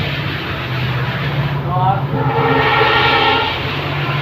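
Inside a moving passenger train carriage on the Dinhata–Bamanhat line, a steady low rumble and rattle of the rolling wagon runs throughout, with a tonal whine rising midway and voices talking.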